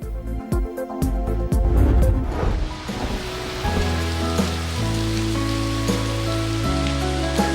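Heavy rain pours down across flooded Multan, a dense loud hiss of drops on surfaces for the first few seconds before settling into a steadier wash with tonal layers over it.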